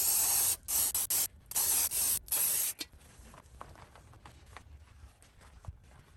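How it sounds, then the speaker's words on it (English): Brake cleaner sprayed onto the axle tube of a 1983 Newell, several loud close hissing bursts in the first three seconds, followed by quiet clinks and handling noises. "Some brake cleaner."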